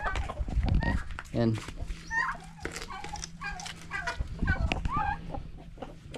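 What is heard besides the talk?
chickens clucking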